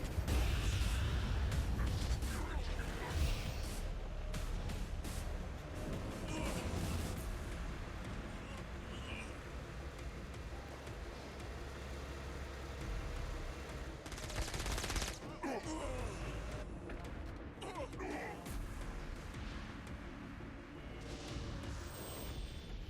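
A turret fires in Saints Row: Gat Out of Hell, sustained loud bursts of rapid gunfire and explosions rolling on for over twenty seconds, with a voice speaking faintly underneath at times.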